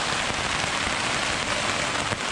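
Heavy rain pours down on a wooden Tahiti gaff cutter boat, a dense, steady hiss of drops drumming on the deck and cabin, loud and unbroken with no voices.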